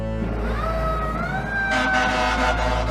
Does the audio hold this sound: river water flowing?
no